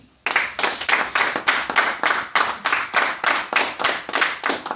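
A church congregation claps in steady unison during a worship service, roughly three claps per second, loud and close with no talking.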